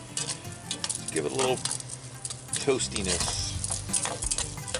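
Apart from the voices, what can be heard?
stir-frying paella rice in a pan over open fire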